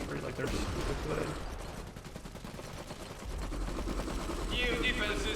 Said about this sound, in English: Machine gunners tear through infantry like they're super good.